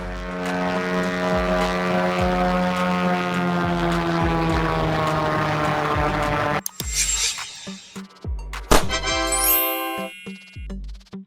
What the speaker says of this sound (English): Blimp.